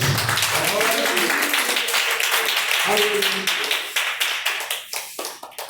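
A church congregation claps together in praise, a loud run of rhythmic hand claps following a preacher's speech, growing sharper and more distinct toward the end, close and clear.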